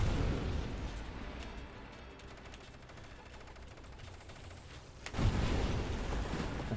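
A death cannon in the space shooter Nova Drift fires as a continuous roar of rapid blasts and explosions, easing off mid-way before a loud, dense burst swells back up near the end.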